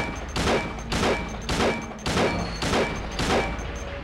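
Gunshots ring out in the horror game Silent Hill 2 as a series of about seven heavy, evenly spaced booming shots, each with a ringing tail, close and loud with no talk over them.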